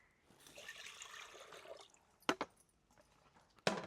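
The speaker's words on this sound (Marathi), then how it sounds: "चुलीवर कुकर ठेवून घेऊ कुकरमध्ये पाणी ओतून घेऊ" Water is poured from a vessel into a pressure cooker set on a wood-fired clay stove, a soft, quiet splashing stream lasting a couple of seconds, followed by a few sharp metallic clunks.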